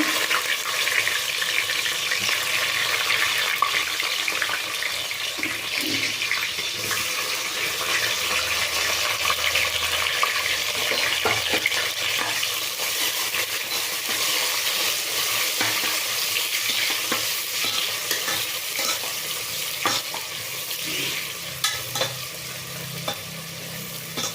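Onions frying in a pan for wedding-style pulao, with whole cardamom in the oil: a continuous loud sizzle with stirring noises throughout, no voices.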